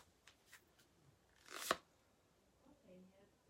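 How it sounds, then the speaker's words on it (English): Tarot cards riffled and shuffled by hand, a brief crisp burst of card flutter near the middle, with a few light taps and faint murmuring speech around it. "I always shuffle until I feel that I'm done."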